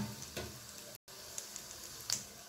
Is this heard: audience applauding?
no